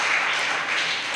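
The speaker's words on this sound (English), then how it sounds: "Please, a round of applause for her once again." An audience at a youth summit applauds, a dense steady patter of many hands clapping close and loud for just over a second.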